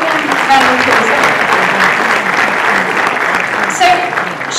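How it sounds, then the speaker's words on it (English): Warm audience applause for a guest speaker joining the stage at a talk, dense continuous clapping from a large crowd at a steady level throughout. "Could you give a warm round of applause?"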